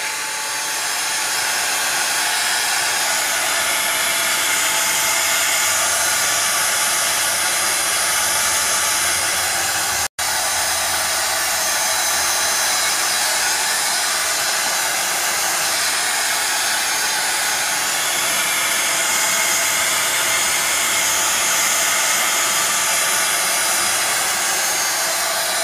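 A hair dryer blows steadily and loudly over a freshly painted steampunk-style altered canvas, a continuous close airy whoosh with no talk and only a brief cut partway through.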